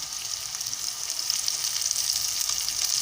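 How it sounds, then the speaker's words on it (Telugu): Curry leaves frying in hot oil, layered over onions already cooking for a okra tomato curry, giving a steady, loud, continuous sizzle throughout with no talking. "కరివేపాకు కొంచెం వేగాలి."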